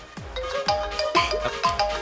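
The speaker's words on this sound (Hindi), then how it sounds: "हिंदुस्तान से फोन बा।" A mobile phone ringtone for an incoming call, played in a Bhojpuri film scene: a repeating melodic electronic tune with bright chiming notes in a steady rhythm, loud and close, with no talk over it.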